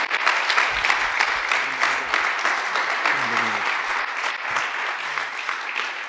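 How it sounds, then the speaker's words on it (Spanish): Church congregation at a worship service claps steadily and loudly throughout, a continuous dense patter of many hands with brief voices and shouts mixed in. "Démosle un aplauso al Señor por la vida del apóstol"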